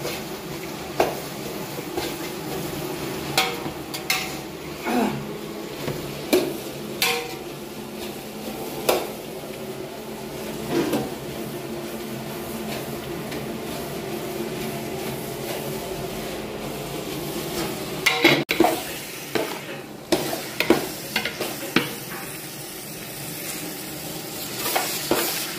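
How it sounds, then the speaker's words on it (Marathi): Onions roast in a large pan of hotel-style gravy base, a steady low sizzle broken by repeated scraping clicks of a spoon or spatula stirring, close and without speech. "आता कांदा आपण भाजून घेणार आहोत त्यामध्ये"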